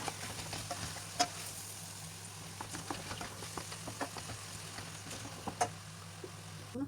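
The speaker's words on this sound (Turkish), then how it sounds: "Güzelce kavuralım bir iki tur. 600 gram kıymayı da ekledim." Ground beef and vegetables sizzle and fry steadily in a pan for moussaka, with a wooden spoon scraping and stirring at irregular moments, close and fairly quiet, no voices.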